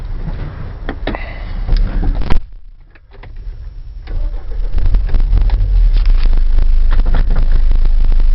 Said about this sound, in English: start the van up, let you hear it.